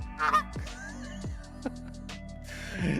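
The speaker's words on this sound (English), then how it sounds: "No, this is a goose, I think." A goose honks repeatedly in loud, close, nasal calls with brief gaps between them, heard alone as a sound effect.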